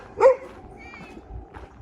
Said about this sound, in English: I thought it'd be odd if I managed to get all the way down here without getting a dog barking at me.